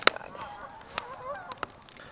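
Geese honk while flying overhead, several short, nasal calls in an irregular run, fairly distant and faint over a quiet snowy outdoor backdrop.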